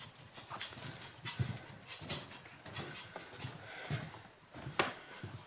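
A dog panting and padding up a ramp indoors, quick rhythmic breaths mixed with scrabbling footsteps and light knocks, fairly close and moderately quiet.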